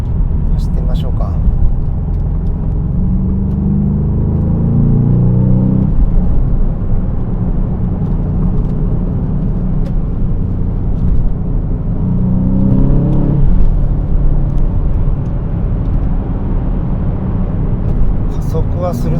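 An Aston Martin DBX707 SUV, a 2025 model, accelerates in manual mode on a Tokyo street, its engine rising in pitch through two strong surges with a brief dip between, heard from inside the cabin under steady road rumble.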